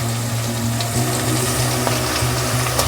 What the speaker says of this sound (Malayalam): ഇനി ഇതിലേക്ക് നമുക്ക് കുറച്ച് ഇഞ്ചി പേസ്റ്റ് വെളുത്തുള്ളിയുടെ പേസ്റ്റ്